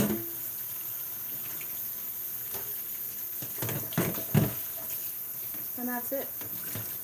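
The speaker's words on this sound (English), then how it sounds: "Alright, now I can rinse out all my stuff." Kitchen items and a Ninja appliance are rinsed under a running tap, a steady water stream with clattering handling sounds, while a person briefly speaks.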